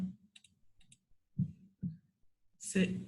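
A computer keyboard Enter key and mouse clicks while drafting an electrical installation drawing: two soft, quick clicks close by, then a louder tap, as someone speaks between them.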